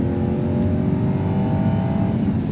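A Lexus LS430 luxury sedan with a 290-horsepower V8 accelerates in sport mode, a loud, steady engine drone that holds and builds across a couple of seconds, heard from close by without talk.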